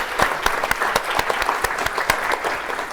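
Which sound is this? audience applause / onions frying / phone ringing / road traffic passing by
audience applause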